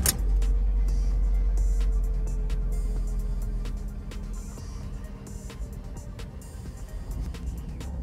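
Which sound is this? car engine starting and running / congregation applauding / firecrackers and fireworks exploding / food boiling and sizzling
car engine starting and running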